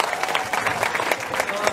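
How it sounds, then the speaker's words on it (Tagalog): A crowd at a business seminar claps briskly, the brief burst of applause close and lively throughout. "Palakpak po natin ulit si Sir John Aspirin."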